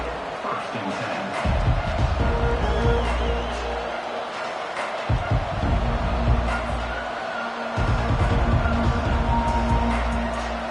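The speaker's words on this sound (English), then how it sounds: "Listen to this crowd noise. This stadium is vibrating." A college football stadium crowd roars during an Oklahoma game, a loud, dense wall of cheering that swells and dips over several seconds, with a broadcast announcer's voice running over it.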